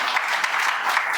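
A church congregation clapping hands together in a fairly rhythmic, dense patter, close and lively, with a faint voice beneath.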